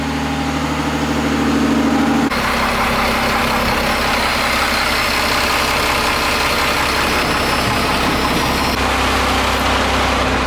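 A Cummins diesel engine in a van idles while warming up, a loud, steady low rumble that shifts once early on and then holds constant throughout, with no talking.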